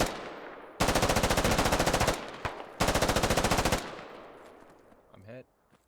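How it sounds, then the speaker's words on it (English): Rounds fired at an MRAP in the video game Squad Ops: two long, loud bursts of rapid automatic gunfire separated by a brief pause, then a fading tail and a short voice at the end. "Chaotic Clyde throwing some rounds towards the MRAP"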